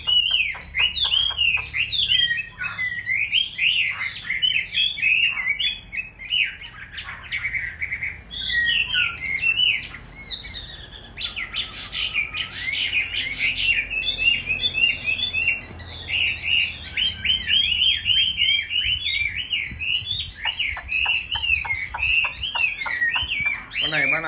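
Caged songbird in a bird-fighting session in Vietnam sings loud, rapid, varied chirps and whistled phrases almost continuously, close to the microphone, with a faint low background hum.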